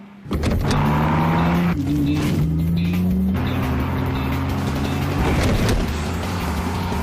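A Porsche, the car called the Blackbird, runs steadily close by with a loud engine drone whose pitch rises and falls a few times, and no one speaks.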